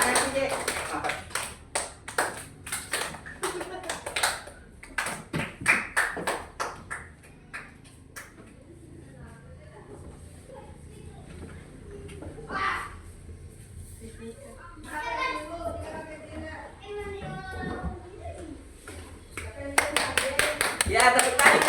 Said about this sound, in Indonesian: Tepuk tangan dulu. Tepuk tangan sih.